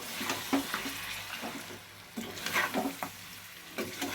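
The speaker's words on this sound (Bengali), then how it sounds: "মাটনটা ভালো করে মিশিয়ে নিচ্ছি" Mutton pieces are stirred and mixed with spices in a pan for mutton rezala, giving close, irregular scraping and wet squelching bursts over a soft sizzle, with brief pauses between strokes.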